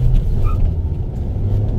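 Mahindra XUV700 petrol SUV pulling away from first gear, a steady low engine rumble and road drone close by, continuous and fairly loud with no talk.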